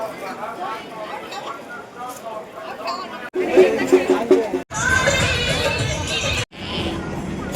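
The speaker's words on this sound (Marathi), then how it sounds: "लास्टचा दिवस म्हणून गर्दी बघू शकतो तुम्ही किती आहे खूपच गर्दी" A dense crowd chatters at the busy last day of the Alibag village fair near a temple. Steady babble and hubbub fill the scene, with nearby voices talking over it and brief breaks.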